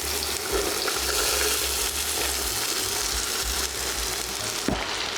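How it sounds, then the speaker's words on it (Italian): Coarsely chopped vegetables sauté in heated olive oil in a large pot for a sausage and rib stew, a steady close sizzle and crackle running throughout with a faint clink partway. "Lasciamo scaldare e mettiamo a soffriggere le verdure"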